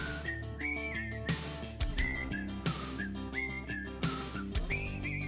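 Melodic whistling in short rising and falling phrases over a sustained musical backing, clear and close, with no talking.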